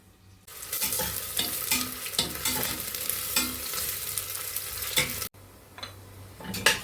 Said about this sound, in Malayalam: ചെറുതായിട്ട് അരിഞ്ഞെടുത്ത ഉള്ളിയാണിത്. ഇത് നമുക്കൊന്ന് വറുത്ത് കോരിയെടുക്കാം.